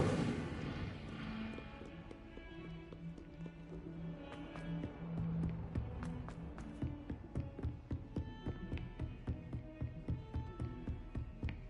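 An Incendio fire spell is cast in Hogwarts Legacy, a burst of crackling, popping magical flame with rapid sharp snaps that grow denser and more rhythmic toward the end, set over sustained game music.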